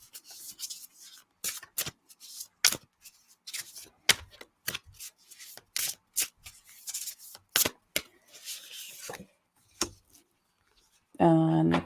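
A deck of tarot cards being shuffled close by, in irregular bursts of soft riffling and sliding with pauses between them, and brief talk near the end.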